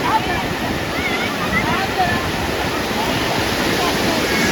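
Sea waves wash ashore at Rajodi beach in Vasai in the evening, a steady broad roar of surf mixed with wind buffeting the microphone.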